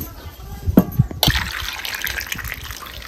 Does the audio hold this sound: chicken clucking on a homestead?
no